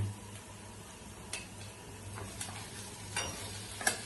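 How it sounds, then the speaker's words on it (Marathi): Poha tossed into a hot pan with turmeric-yellow tempering and stirred, giving a faint, steady sizzle broken by a few soft clicks and scrapes of the spoon against the pan, fairly quiet throughout. "आता याच्यामध्ये आपले पोहे टाकून घेऊ आपण."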